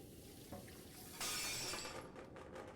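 A plate shatters in the video game Loretta, a bright crash of breaking china followed by scattered tinkling fragments settling, preceded by faint kitchen clatter and water sounds, with no speech.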